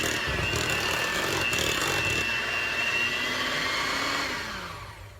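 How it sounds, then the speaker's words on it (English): An electric hand mixer whirs steadily as it blends flour into Girl Scout cookie batter, a loud continuous motor drone that winds down and fades out near the end. "I'm only gonna mix it a little with the blender"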